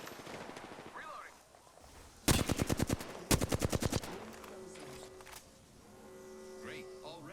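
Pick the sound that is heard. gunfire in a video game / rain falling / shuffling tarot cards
gunfire in a video game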